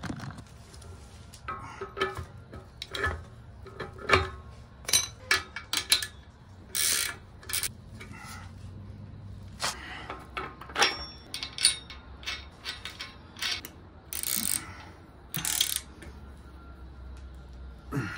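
Wrenches tightening bolts to fit casters onto a low rider stand, heard as irregular bursts of metallic ratcheting, clinks and scrapes with short pauses between them, close and fairly loud, with no talking.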